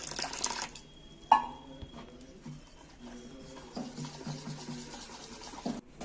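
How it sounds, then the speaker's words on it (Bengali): A little water is poured into a bowl of egg paratha dough as it is mixed. There is a soft, faint splash and a light trickle, with quiet kitchen handling sounds afterward. "আরও একটু জল দিতে হবে।"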